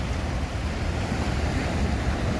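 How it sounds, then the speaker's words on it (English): Ocean surf surging through narrow rock channels on the Margaret River coast, a steady loud wash of breaking water with wind buffeting the microphone and no voices. "You could sit here for hours and just watch the waves come through the canals"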